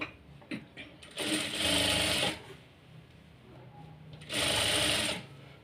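Sewing machine stitching a folded blouse seam, two loud bursts of rapid running stitches separated by a quiet pause, heard close up.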